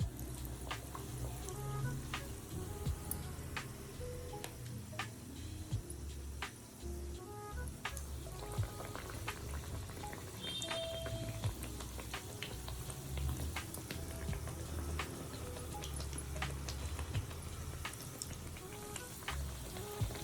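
Appalam bajji, papads dipped in batter, fry in hot oil over a medium flame with a steady, even crackling sizzle and scattered sharp pops, close and continuous with no talking.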